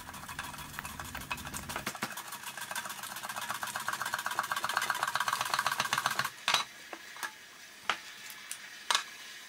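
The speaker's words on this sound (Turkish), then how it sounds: "Böyle bir soğan kesme piyaz makinesi ile ince dilimleri kesiyorum." Thin slices of peeled cucumber cut on a hand-held onion slicer give a fast, dense run of crisp scraping strokes, then a few separate sharp clicks and knocks of the tool. The sounds are close and there is no talk.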